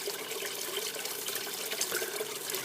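Water flows through a small recirculating mini sluice, a steady trickling and splashing rush that carries on without a break throughout.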